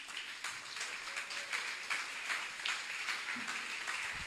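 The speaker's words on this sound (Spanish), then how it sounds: "Si lo cree, denle un aplauso al Señor." A church congregation applauds during a sermon, steady rhythmic clapping from many hands at moderate distance, continuous and without talk.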